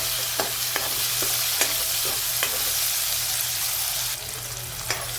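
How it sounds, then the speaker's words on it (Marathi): Tomatoes sautéing with onions in a pan, sizzling steadily while a spoon stirs in periodic scrapes and taps, close and continuous with no talk. "आता आपण लगेच टोमॅटो टाकून घेऊ। टोमॅटो मऊ पडेपर्यंत आपण याला परतून घेऊ"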